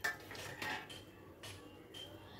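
Boiled egg pieces being stirred into gravy in a pan, with a few soft scraping and clinking strokes of a utensil against the pan spaced through the moment, fairly quiet and with no one talking.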